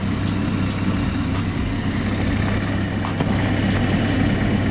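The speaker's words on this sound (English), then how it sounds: "Motor's running beautifully." A BMW M240i with a B58 engine fitted with an aftermarket turbo idles steadily, a continuous low rumble with faint ticking on top, close and fairly loud, no talking.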